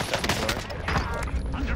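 Rapid gunfire in the Warzone battle royale game, dense crackling shots running continuously and loud, with speech-like sounds mixed into the chaotic firefight.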